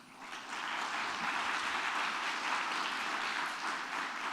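Sustained audience applause at an ambassador's farewell ceremony, a dense, steady wash of many hands clapping that rises quickly and holds at an even loudness throughout, with no talk over it.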